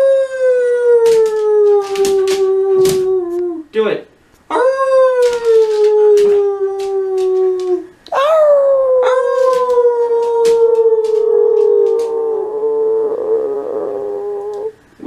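A dog howls on command in long, sustained rising and falling howls, three drawn-out bouts close to the listener with brief breaks between them and a short spoken prompt in between.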